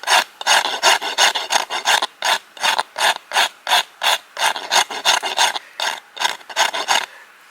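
A rasp files the handle of a bamboo deflex recurve bow in steady, even back-and-forth strokes, about two or three per second. The coarse scraping is close, loud and sharp, with no voices over it.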